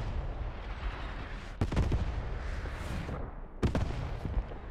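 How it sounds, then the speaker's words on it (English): Booming artillery in a WWII strategy game, two heavy distant blasts spaced a couple of seconds apart over a constant rumbling battle din. "Artillery coming in. This is more artillery."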